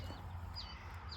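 Chickens cluck softly in a peach orchard, a few short calls rising over a low outdoor hum, fairly distant and quiet with no talking.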